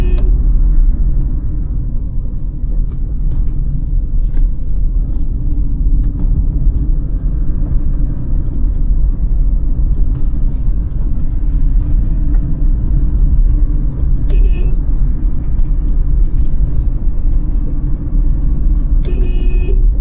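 A Hyundai i20 rolls downhill in second gear on a narrow mountain road, its engine giving a steady, close, low rumble that holds evenly throughout with no talking.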